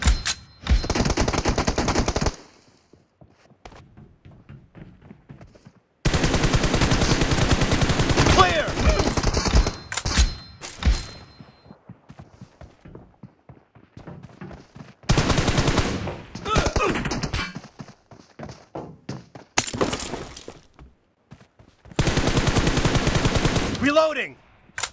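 M4 rifle fire in the mobile shooter BGMI (PUBG): loud sustained automatic bursts of several seconds each, separated by quieter gaps of game ambience and short stray shots.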